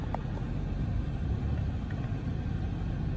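A 2016 Mazda 3 engine idles smoothly just after starting, a steady low rumble held at a constant level from start to finish with no talk over it.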